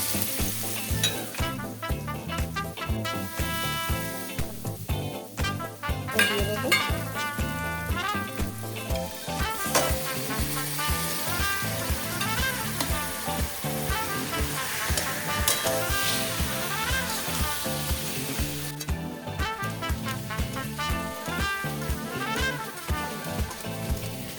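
Chicken frying in oil with green chillies gives off a steady, close sizzle with occasional stirring, running continuously beneath background music.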